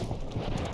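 Horse hooves clip-clop in a video game, a dense, steady clatter of galloping hoofbeats that stays loud and close throughout the short burst.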